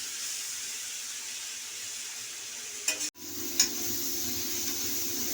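Ripe pointed gourd fries in a pan for a sweetish chhechki, making a soft, even hiss that cuts out for an instant near the middle before resuming with a faint stir knock.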